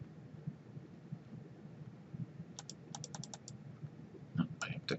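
Keyboard shortcuts are pressed on a computer keyboard, giving a few faint, close clicks over a quiet low hum, with no voices.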